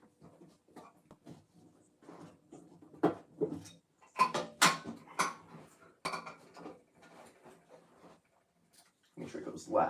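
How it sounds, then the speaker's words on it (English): Metal and plastic parts of a Cobra head street light clatter and clink as its refractor door is worked loose and pulled off, a series of sharp knocks and rattles mixed with someone talking throughout. "just get this refractor door off."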